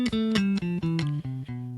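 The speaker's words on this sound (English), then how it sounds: "the 7th mode here, which is our last mode, would be B Locrian." A bass guitar plays the B Locrian mode as a descending run of about eight clean, evenly spaced plucked notes, close and fairly quiet.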